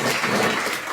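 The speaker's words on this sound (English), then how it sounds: "Big round of applause." Applause for a live performance at a showcase event, a dense steady patter of clapping from an audience filling the whole moment at even volume, with no speech over it.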